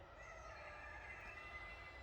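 Chickens are heard faintly in a woodland setting, soft, distant clucking and bird calls over a steady low outdoor rumble, with no speech.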